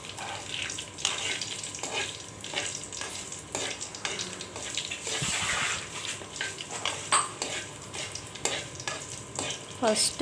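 Sprouts frying in a pan on a low flame while a spoon stirs them, a steady sizzle with repeated scraping strokes and clinks against the metal, continuous and close.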